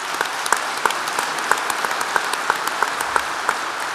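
Applause from a crowd at a political party gathering, a continuous wash of clapping with sharper individual claps popping out, moderately distant and unaccompanied by speech.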